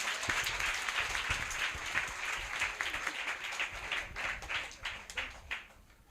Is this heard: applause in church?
yes